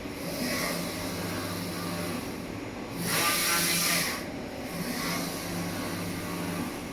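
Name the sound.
Focus Atlas 1311 UV printer printing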